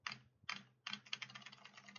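Mechanical keyboard keys with green switches clacking in three quick bursts, the last a sustained run of rapid, crisp strokes, close and fairly loud with no voices.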